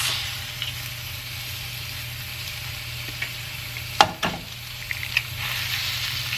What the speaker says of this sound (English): now we're gonna add 2 eggs